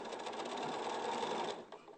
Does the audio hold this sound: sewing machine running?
yes